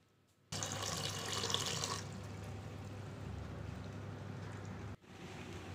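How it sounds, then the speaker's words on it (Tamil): Two cups of water pour and splash into a pot, a brighter gush at first settling into a steady lower stream for several seconds. "நான் இப்போ இதில் ரெண்டு கப்பு தண்ணியை ஆட்"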